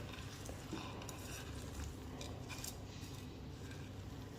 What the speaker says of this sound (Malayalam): എന്നിട്ട് ഇവയെല്ലാം കൂടെ നല്ലതുപോലെ ഇളക്കി യോജിപ്പിക്കാം.